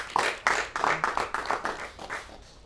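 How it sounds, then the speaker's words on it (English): An audience claps for a woman, a milliner and gospel artist, in a burst of sharp, fairly even claps that start strong and slowly thin out and fade. "Please, can we clap for this wonderful woman?"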